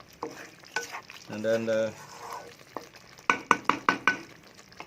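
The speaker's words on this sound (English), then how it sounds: "So, and I give a good stir like that" Beef rendang is stirred in a pot at home: after a few spoken words, a sudden run of five or six sharp scraping strokes rings out close and distinct.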